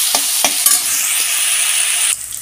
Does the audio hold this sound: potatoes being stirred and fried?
yes